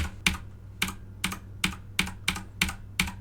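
Computer keyboard keys pressed one at a time while working in FL Studio, eight crisp clicking strokes at a fairly steady rhythm, close and clear over a low background hum.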